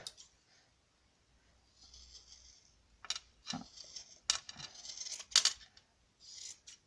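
Scissors trim wool yarn to shape a mini pompom for a small knitted Christmas hat, with several short, close snips and faint rubbing between the cuts.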